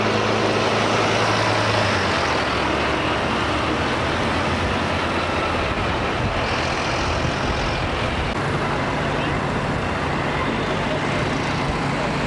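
A First Group bus running accessible services in Weymouth during the 2012 Olympics, its engine a steady loud rumble amid busy roadside traffic noise throughout, with no clear gaps.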